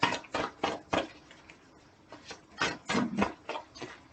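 Tarot cards shuffled by hand, a series of short crisp riffling bursts and soft slaps in an uneven rhythm, close and clear with no talking.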